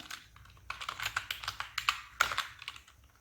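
Rapid keystrokes on a computer keyboard during a touch-typing lesson, a quick run of clicks close by with brief pauses between bursts and no talking.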